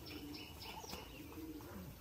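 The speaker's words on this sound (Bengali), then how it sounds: "খুবই সুন্দর পায়রা" Soft pigeon cooing from a full-grown male fancy pigeon with a twelve-feathered tail and feathered feet, low murmuring calls repeating steadily and fairly close against a faint background hiss, with a few light chirps mixed in.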